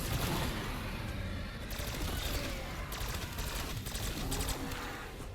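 Ray gun from Black Ops 6 firing in rapid bursts of sharp energy shots amid continuous chaotic game noise and scattered impacts, fairly loud throughout.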